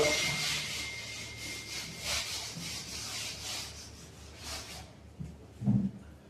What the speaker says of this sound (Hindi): इसे मैं रब कर देता हूं।